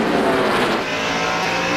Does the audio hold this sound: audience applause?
no